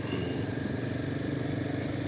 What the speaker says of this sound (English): And the only noise is the motorbike